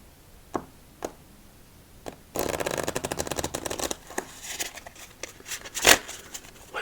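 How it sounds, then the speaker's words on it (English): A few soft taps of a Mario Kart playing card deck, then a burst of rapid riffle shuffling for about two seconds, followed by scattered light clicks and one sharp snap. "let's do our second part of the victory shuffle"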